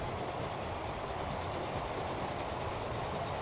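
A Big Boy steam locomotive in the Transport Fever video game, a steady rumbling run of rail noise with rhythmic wheel clatter, continuous and even in loudness, with no talking.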